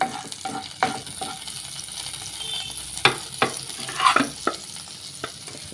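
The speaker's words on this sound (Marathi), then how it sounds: "आतां सद्या थोडोसो बटर घाता मेल्ट करता" Butter melting in a pan for Goan prawn chow chow, a soft steady sizzle with repeated clinks and scrapes of stirring, moderately close, no talk.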